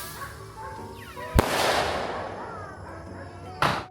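Cheap, low-quality New Year fireworks go off outdoors, a sharp loud crack followed by a long hissing, crackling burst and a second bang near the end, with no talk.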